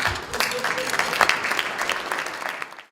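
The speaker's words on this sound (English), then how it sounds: "I'd like really a round of applause for this." Applause from an audience at a chapter honoring event for a long-serving chapter president, with brisk clapping and some voices mixed in that fades away within a few seconds.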